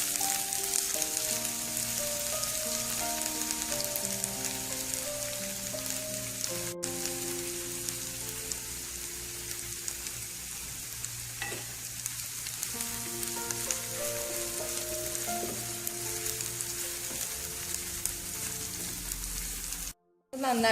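Chopped ginger and garlic fry in hot oil for a Schezwan fried rice, giving a continuous close sizzle under background music. It cuts off sharply near the end.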